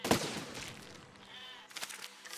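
Sheep bleat loudly in the physics building game Besiege, with a sharp cry at the start and further bleats and rattling game noises following.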